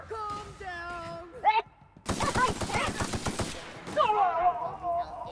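Gunfire from a firefight in the video game The Outer Worlds, a dense rapid burst of shots lasting about two seconds, with voices shouting before and after.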